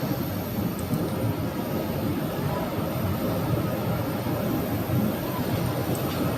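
An airliner taxiing by at Phoenix airport, a steady broad jet-engine roar that holds fairly loud and constant, with no talk over it.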